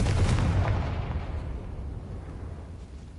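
A Confringo fire spell in the Hogwarts Legacy video game explodes with a deep, loud boom that rolls into a fading, rumbling tail over a few seconds.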